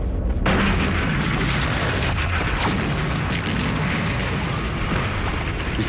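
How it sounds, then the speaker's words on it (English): Continuous heavy artillery barrage in a war setting, deep booms and blasts rolling together into a dense, loud, unbroken roar after a sudden onset, with no talk. "our artillery exploded to life"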